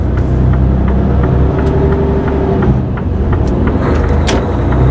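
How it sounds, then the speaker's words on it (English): A Mercedes-Benz Actros 1845 truck drives along with a loud, steady engine rumble and road noise from inside the cab, with brief clicks and a slight dip in the drone as gears change. "the gear changes need to change faster in this Actros"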